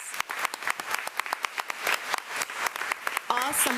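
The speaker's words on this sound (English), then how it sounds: "let's give Mr. Smiley another round of applause" Applause from the audience at a school board meeting, dense individual claps in a steady, fairly near burst lasting several seconds, with a voice or whistle rising near the end.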